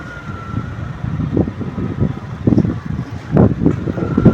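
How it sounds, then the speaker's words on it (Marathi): Strong outdoor wind buffets the microphone as a low, uneven rumble with gusty swells on a trip to gather hibiscus flowers. "हा मस्त वारा वा."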